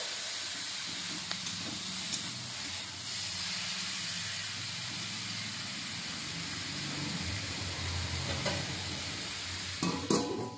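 Cauliflower stalks stir-fry with salt in a dry pan over a medium gas flame, giving a steady, close, unbroken sizzle and hiss with a few faint clinks of stirring near the end.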